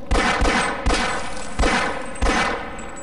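Gunfire in Half-Life comes as four evenly spaced, loud, sharp shots, each with a ringing metallic tail, heard alone without speech.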